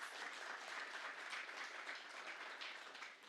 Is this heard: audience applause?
yes